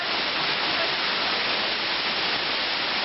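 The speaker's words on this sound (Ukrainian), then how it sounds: "Ось зараз ви відчуваєте шум води." Continuous roaring water, loud and even throughout, like a nearby cascade pouring without a break, from Manyava Waterfall in Prykarpattia, Ukraine, about 24 metres high.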